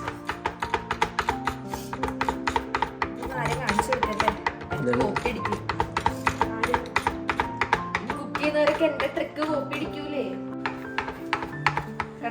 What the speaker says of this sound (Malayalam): ഇങ്ങനെയാണ് നമ്മൾ കുനുകുനാന്ന് ഗാർലിക് അരിയുക